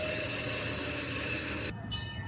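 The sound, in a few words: Pikes Peak cog railway train backing into station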